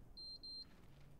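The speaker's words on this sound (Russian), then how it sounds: "Чё пикает?" Two short, clear electronic beeps in quick succession in the tactical shooter game Ready or Not, faint over a quiet low background.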